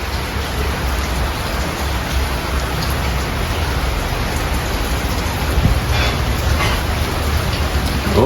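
Steady outdoor rain pattering on garden plants, a dense continuous wash of drops close by with slight swells in intensity, no voices.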